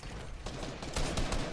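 Compact SMG gunfire in the game Fortnite, a rapid burst of automatic shots rattling quickly, growing denser and louder toward the end, with no talking.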